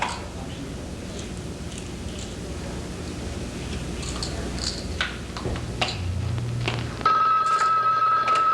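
Telephone ringing on stage during a 1981 high school production of the drama Sorry, Wrong Number, a steady electronic ring heard over faint room noise and stage sounds, ending with a sustained tone.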